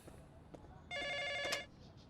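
A telephone rings once with a short electronic burst for an incoming call, close and fairly clear, between a few faint background knocks.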